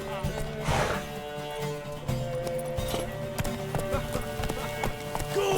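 Horse hooves clip-clopping in The Witcher 3, a steady rhythmic clatter of hoofbeats under game music and ambience, with a brief whinny-like swell early on.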